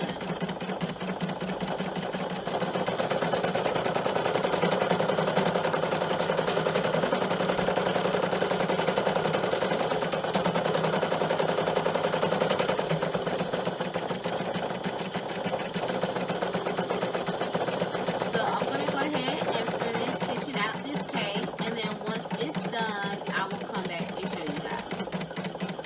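An embroidery sewing machine stitches a bib with a fast, steady mechanical chatter that runs continuously and close by. The rhythm loosens into lighter, uneven clicking near the end.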